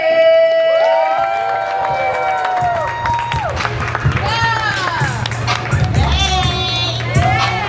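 A crowd at a Charlotte Hornets music industry night cheers, whoops and claps loudly and continuously for several seconds, with shouts rising over the applause and a voice speaking through it.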